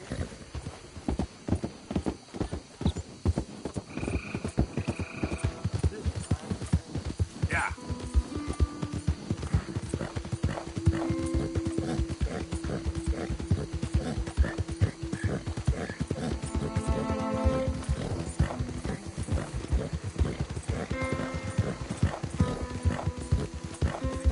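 Rhythmic hoofbeats of a horse galloping and clip-clopping in Red Dead Redemption 2, with occasional whinnies and game music or effects layered throughout.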